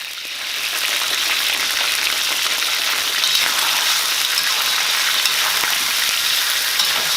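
Chicken wings for a red wine chicken dish sizzle loudly in hot oil, a dense, continuous crackling hiss close by that barely varies.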